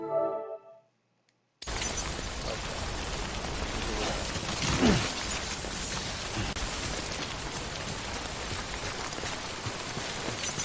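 Steady, dense rainfall from the Death Stranding game world, after a short quiet gap at the start: a continuous broadband hiss of drops that stays even and fairly close for the rest of the clip, with no talking over it.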